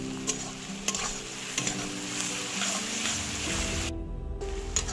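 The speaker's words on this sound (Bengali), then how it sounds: "পেঁয়াজটা আমি মিনিট খানে ফ্রাই করে নেবো। পেঁয়াজটা যাতে সহজে নরম হয়ে যায় তার জন্য একটু লবণ দিয়ে দিচ্ছি।" Onions fry in a pan with a pinch of salt, a close, dense sizzle overlaid with repeated scraping and stirring strokes and occasional sharp clicks of the utensil against the pan, without speech.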